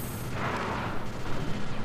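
Missile explosions in the video game Sly 2 erupt as a broad, rumbling boom that swells early and then trails into a rough, crackling roar, fairly loud and alone with no voices over it.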